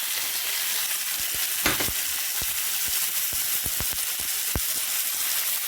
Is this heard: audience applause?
no